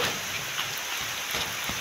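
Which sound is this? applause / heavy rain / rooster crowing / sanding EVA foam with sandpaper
heavy rain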